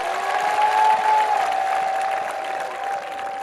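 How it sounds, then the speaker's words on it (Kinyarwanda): Audience applause at a religious gathering or sermon, a steady sustained clapping from a crowd that swells early and then eases slightly, heard alone without talk. "muyikomera amashyi yo kabyara"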